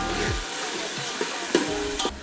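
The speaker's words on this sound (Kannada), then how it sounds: "ಸ್ವಲ್ಪ ಎಣ್ಣೆಯಲ್ಲಿ ಮಿಕ್ಸ್ ಮಾಡ್ಕೋಬೇಕು." Green peas and a bay leaf frying in oil are stirred in a pan, giving a steady close sizzle broken by a few sharp scrapes and clicks of the spoon.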